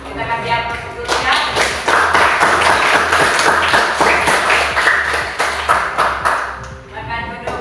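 A classroom group of students applauds group four, steady clapping from many hands for several seconds, close and loud, with some voices mixed in.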